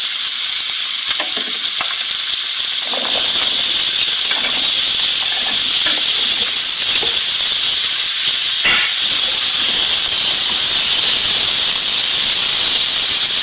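Turnips hit a pan of onions already frying to light pink, and a loud, steady sizzle and hiss fills the air with stirring scrapes throughout, starting quieter and swelling after a few seconds.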